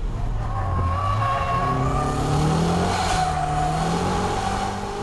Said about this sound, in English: Kick the gas all the way in 3rd gear. Brake, steer, then boom. You let the clutch go without using heel and toe.